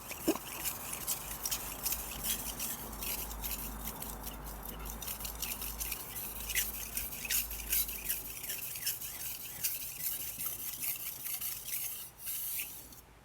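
A steel blade is stroked with light pressure across a sharpening stone to polish the edge, giving a steady, fairly quiet scraping rasp of repeated strokes with no talking.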